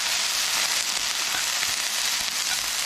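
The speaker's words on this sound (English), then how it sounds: "just saute the onion until you get a little bit of translucency going on" Half a small onion and five cloves of garlic sautéing in a pan, a loud, close, continuous sizzle and crackle with no talking.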